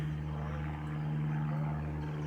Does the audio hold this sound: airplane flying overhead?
yes